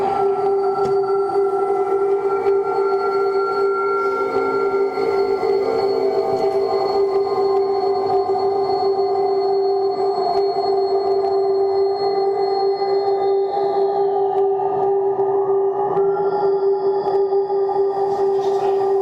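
Recording made with the ANS image-reading synthesizer, a dense sustained drone of layered steady tones with slowly shifting upper partials, loud and continuous throughout with no talk.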